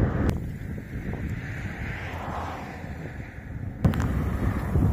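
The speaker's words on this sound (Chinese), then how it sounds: "风太大了，骑不动。" Strong seaside wind blows against a cyclist riding into a headwind along the coast, a steady, close roar of wind buffeting the microphone, with gusts swelling near the start and end.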